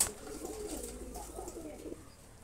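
Good-bloodline pigeons cooing softly and a little distant, several low murmuring coos running together over about two seconds of quiet background.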